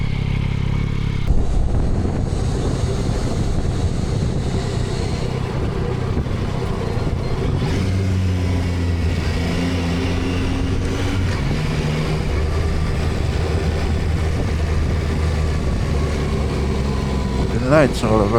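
A 2025 Yamaha Tracer 9 GT motorcycle rumbles at low speed, with engine tones rising and falling through gear changes over a constant wind-and-road roar, ending on a brief sharp rev.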